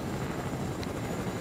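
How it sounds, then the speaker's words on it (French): Helicopter flying in the video game Fortnite, a steady, moderately faint rotor and engine drone that continues evenly through the brief moment with no voices. "c'est un hélicoptère que j'ai payé très très cher."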